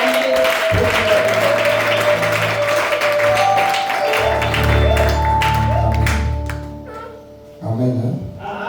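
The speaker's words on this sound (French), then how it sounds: "Est-ce que tu peux acclamer?" A church congregation applauds loudly and continuously, with a sustained sustained tone beneath the clapping and a brief dip before the applause swells again near the end.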